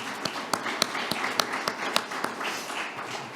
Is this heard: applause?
yes